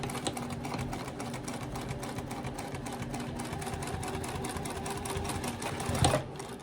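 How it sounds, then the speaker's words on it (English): A sewing machine top stitches the zipper panel edge of a small wallet at an eighth-inch seam allowance: a close, steady whirring run of rapid needle strokes that ends with a brief thump as it stops. "I'm going to top stitch just along this edge here of the top panel using 1/8 seam allowance"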